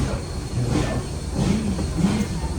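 A Southern Railway 630 steam-hauled train rumbles along the tracks nearby, with steady low noise and brief metallic squeals from the wheels.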